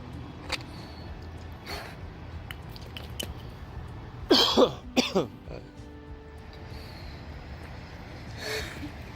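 A recovering dog gives a short cluster of harsh, hacking coughs midway, close to the microphone, with quieter breathy sounds before and after.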